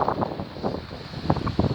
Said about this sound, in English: Still a little bit windy, but that's expected because we are, you know, right by the sea.